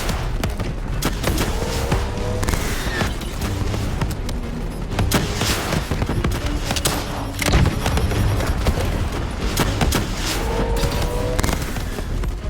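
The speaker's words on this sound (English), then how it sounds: "Javelin missiles incoming!" Javelin missile explosions and gunfire in the Call of Duty: Black Ops 3 video game, a continuous loud barrage of booms, thuds and rapid shots rolling on without pause, with no talk.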